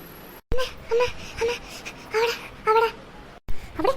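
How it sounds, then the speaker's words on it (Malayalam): Children crying and wailing in short repeated bursts, fairly close, with brief pauses between each sob. "പിള്ളേരുടെ എന്തോ സൗണ്ട് കേൾക്കുന്നുണ്ടല്ലോ."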